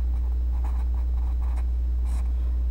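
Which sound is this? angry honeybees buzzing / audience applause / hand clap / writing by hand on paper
writing by hand on paper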